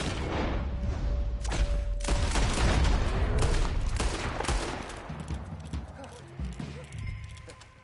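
Gunfire in a Red Dead Redemption 2 fight, a few sharp shots crack early over a busy mix of hoofbeats and movement, with voices shouting and talking over the action.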